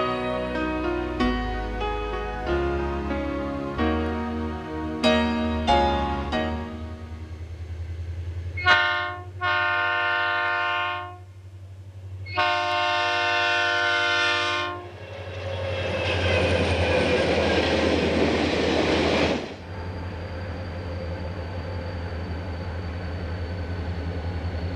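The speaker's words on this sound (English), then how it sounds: "These diesel locomotives were called tunnel motors." A Denver & Rio Grande Western SD40T-2 tunnel motor diesel locomotive sounding its multi-chime horn in several long blasts over a low idling rumble, followed by a roaring surge of engine noise.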